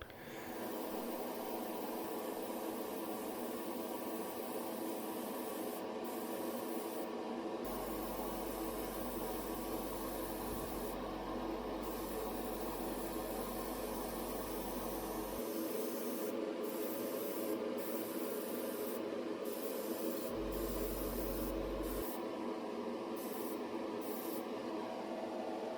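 Airbrush with a 0.35 needle at about 20 psi slowly building up paint coats on parts of a 1/12 Tamiya Ducati 916 Senna model, a steady close hiss broken by brief pauses and a low compressor hum underneath.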